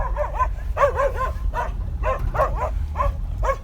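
Several pit bulls bark, growl and yip in quick, uneven bursts, close and fairly loud, with a low rumble underneath and no talking.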